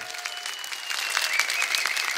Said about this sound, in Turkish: Ve derneğimizin folklor ekibine de bir alkış alabilir miyiz lütfen?